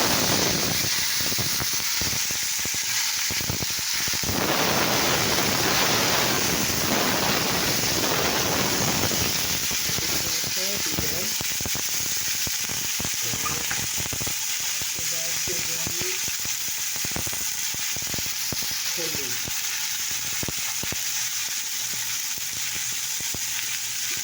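Potatoes and tomatoes hit hot oil with panch phoron in a kadai, bursting into a loud, close sizzle that settles into steady frying with stirring scrapes.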